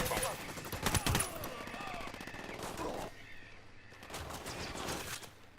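Bursts of automatic gunfire in the open-world shooter game Ghost Recon Wildlands, loud rapid volleys at first, then quieter sporadic shots over continuous battle noise.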